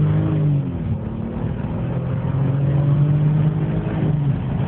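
BMW E60 530i car accelerating, a steady engine drone with rising harmonic tones that holds at a loud, even level throughout, with no talking.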